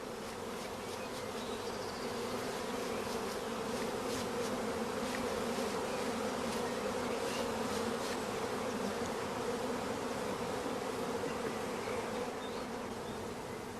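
Honeybees from a queen-rearing hive swarm around a lifted nursery frame, a dense, steady buzzing hum that stays close and unbroken throughout, with no voices.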